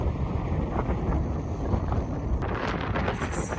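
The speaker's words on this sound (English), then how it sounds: "This is how windy it is." Strong wind at the Imperial Sand Dunes buffets the microphone in a continuous roaring rush, loud and unbroken, with no voices.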